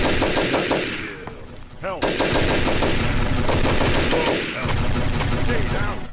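Rapid automatic gunfire in the video game Offensive Combat Redux, loud dense bursts of shots broken by short pauses, with a voice talking underneath at times.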